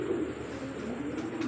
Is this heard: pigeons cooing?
yes